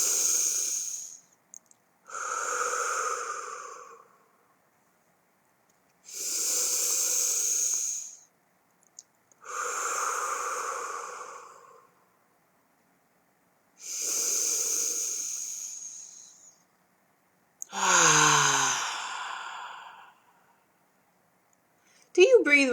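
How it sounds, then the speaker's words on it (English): Slow, deep breathing exercise: six long, airy breath sounds forming three inhale-exhale pairs, close and steady, each lasting about two seconds with pauses between, mostly alone with a brief voice at the very end. "Let's take our 3 deep breaths and go ahead and get started."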